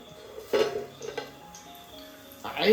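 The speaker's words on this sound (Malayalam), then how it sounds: "അപ്പൊ നമുക്ക് പാത്രം തുറന്നു നോക്കാം" A lid is lifted off a hot pot of biryani in a home kitchen: a few light metallic clinks and scrapes, then a louder rush of steam and bubbling boil near the close.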